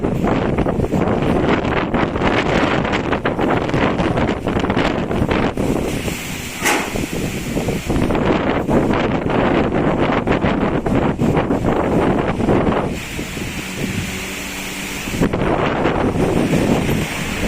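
Strong, gusty typhoon wind in Quezon Province, Philippines roars and buffets the microphone continuously, loud and turbulent, with brief lulls between blasts.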